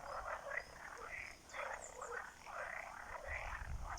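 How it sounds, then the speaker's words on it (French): Chorus of croaking frogs, with dense overlapping croaks swelling and fading in rhythmic waves at moderate distance and no talking. "Concert de grenouilles."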